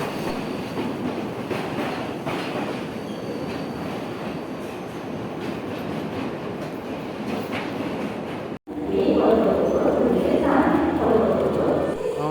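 A train rumbles steadily along the rails in Sri Lanka with rhythmic clatter, growing louder and rougher after a brief break.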